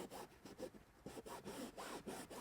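A microfiber towel rubbing foam cleaner into a car headliner, producing quiet rhythmic back-and-forth scrubbing strokes, about a dozen in quick succession, close and faint.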